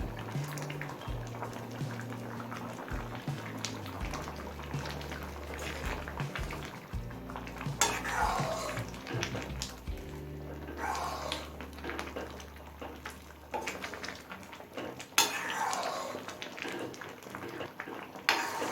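Mung dal with pumpkin greens bubbles in a pot as a prepared tempering is added and stirred in, giving soft bubbling, a couple of sharp sizzling bursts and scraping stir strokes, fairly quiet and close.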